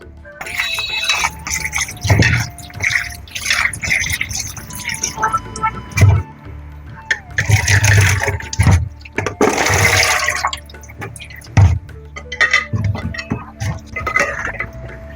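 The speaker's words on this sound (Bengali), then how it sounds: "বেগুনটা কেটে নিয়েছি এখন একটু ধুয়ে নেব নাহলে না কালো হয়ে যায়" Cut eggplant being washed in a bowl of water in a home kitchen, with repeated sloshing, splashing and trickling bursts and occasional clinks of the pot, close and fairly loud.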